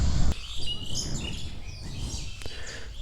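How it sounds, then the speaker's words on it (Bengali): Birds chirp and tweet in short overlapping calls against a soft outdoor background, fairly near and moderately loud, with a brief thump at the start. "পাখিদের কিচির মিচির শব্দ"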